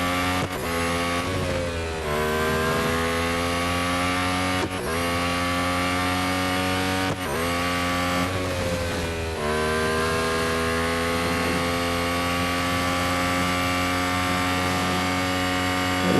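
An Alfa Romeo Formula 1 car engine in Real Racing 3 screams loudly and continuously, rising through the revs, with a few sharp dips at gear shifts before climbing again, with no voices.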